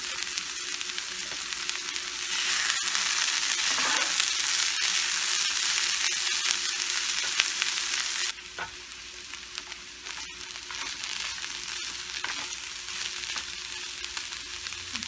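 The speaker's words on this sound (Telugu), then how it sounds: "ఇవి ఫ్రై అవుతున్నాయి కదా" French beans fry in a pan with a strong, continuous sizzle and crackle, stirred now and then, the frying easing slightly in loudness partway through.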